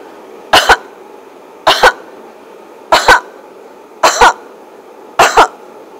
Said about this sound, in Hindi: अभी आपको 5 बार खांसी करना है।